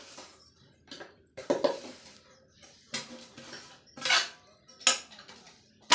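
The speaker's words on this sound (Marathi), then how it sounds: "आता या गुळा डाळीमध्ये मिक्स करू गूळ पूर्ण असा" Jaggery stirred into cooked lentils in a pan, with irregular scraping and clinking of a spoon against metal, in bursts with brief pauses, close and moderately loud, no talk.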